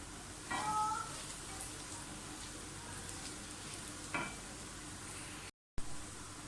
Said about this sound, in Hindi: दूसरी साइड पे हमारा जो है प्याज फ्राई हो रहा है